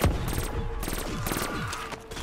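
A gun with the fireworks ammo mod firing in Black Ops 3 zombies on Shadows of Evil, a dense rapid burst of shots with bright crackling bursts layered over a loud continuous roar.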